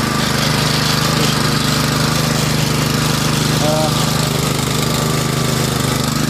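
A small engine runs steadily at a low idle, warming up after its choke has been adjusted on a machine with two reverse and five forward speeds, a constant loud chugging drone with no pauses.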